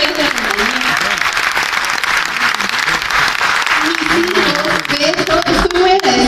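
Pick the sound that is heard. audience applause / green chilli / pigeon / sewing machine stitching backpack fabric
audience applause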